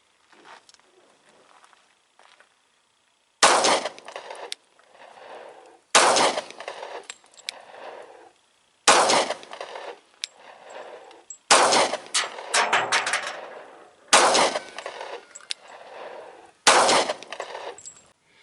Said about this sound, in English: let's get a side view of this to see what it looks like when you shoot it